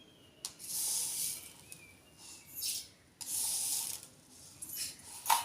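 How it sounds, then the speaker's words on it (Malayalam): Mustard seeds hit hot oil in a pan for a Kerala tempering, producing repeated bursts of sharp hissing and spluttering that flare up and die back, close and fairly quiet. "അതിലേക്ക് കുറച്ച് കടുക് ഇട്ട് കൊടുക്കുകയാണ്"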